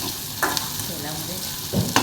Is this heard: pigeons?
no